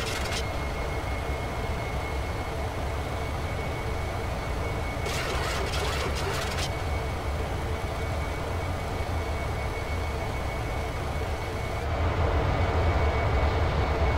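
Landing gear on a Boeing 737-300 in the X-Plane 11 flight simulator extends with a steady mechanical rumble and hum, a brief rattling burst partway through, and a louder, heavier airflow roar near the end.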